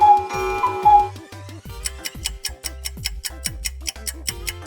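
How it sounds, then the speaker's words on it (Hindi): A clock ticks in a steady, even rhythm of crisp, close clicks, heard alone after a short electronic game chime in a children's sound-matching activity. "यह आवाज तो घड़ी की है।"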